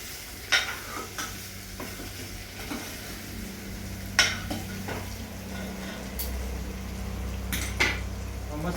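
Potatoes being stirred and mixed in a pan over a low gas flame for bhungra bataka: a steady scraping shuffle with sharp metallic clinks of the spoon against the pan, over a soft background sizzle.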